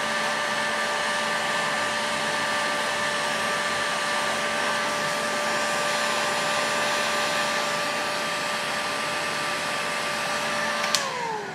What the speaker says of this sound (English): I'll just heat the entire cylinder up real quick